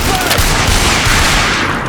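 Dense video game gunfire roars in a loud, continuous barrage of rapid shots and booms, filling the scene up close without a pause.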